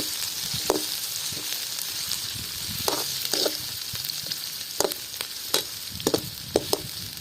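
Sliced big onions sautéing in hot oil for a street-style mushroom masala, a constant close frying sizzle punctuated by sharp spatula scrapes and clinks throughout.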